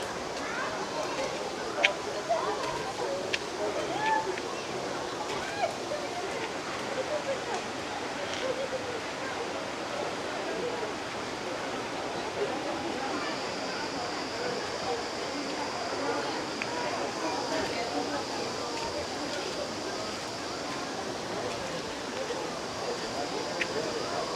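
A steady wash of falling water from the Sütüven waterfall near Edremit roars continuously at a distance, with a faint murmur of people and a thin high tone joining partway through.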